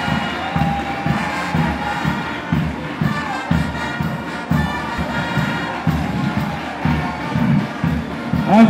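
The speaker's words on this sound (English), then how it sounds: "A round of applause for the teams of Kenya." Crowd at the opening ceremony of the EAC Police games in Kigali cheering and shouting for Kenya's team, a steady loud roar of many voices with bursts of yells throughout.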